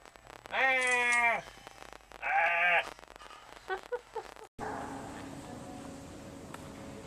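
Two long, loud sheep bleats sound close by outside a gondola in Christchurch, New Zealand, followed by a few shorter bleats, then the scene cuts to steady outdoor wind noise.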